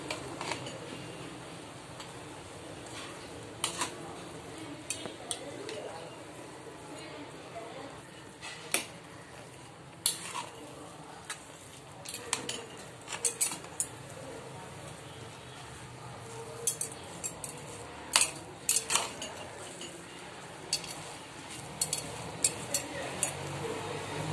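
A metal spoon clinks and taps against a pot while stirring food colour into chicken biryani, scattered sharp ticks at an irregular rhythm over quiet background hum.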